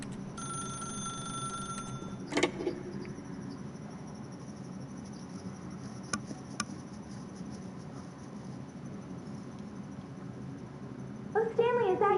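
Telephone ringing in the video game The Stanley Parable, one short ring near the start and a burst of warbling ring tones at the end, separated by a quiet ambient hum.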